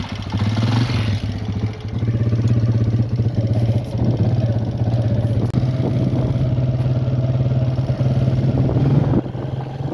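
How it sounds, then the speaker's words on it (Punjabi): A scooter engine runs close by with a steady, buzzing drone and slight clatter that holds throughout as the rider prepares to set off. "ਲੋ ਭਾਈ ਸਕੂਟਰ ਕਾੜ ਲਿਆ ਸਿੱਧਾ, ਹੁਣ ਚੱਲਨੇ ਆ"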